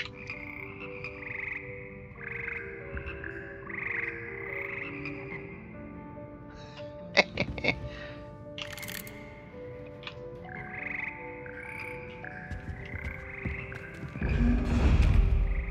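The Frog Choir of Hogwarts Legacy croaks in a layered, pulsing chorus of frogs that carries on steadily, broken by a few sharp taps and thuds midway and a low rumble near the end.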